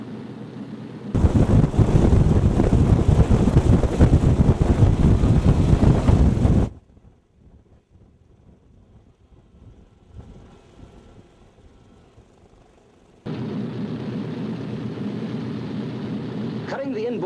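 Four-engine B-17 bomber taxiing, a loud, steady broadband roar of its radial engines that drops away abruptly to a quiet hum with faint rumbles, then returns at moderate level for the final seconds.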